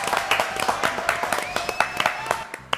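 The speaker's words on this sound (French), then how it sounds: "On l'applaudit?" A studio audience on a French TV show claps in sharp, close, uneven bursts, a scattered run of distinct hand claps over a couple of seconds with a voice faintly present.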